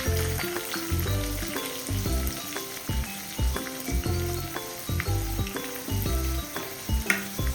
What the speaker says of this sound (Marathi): कढीपत्ता टाकल्याच्या आपण त्याच्यामध्ये कांदा टाकून घेऊ.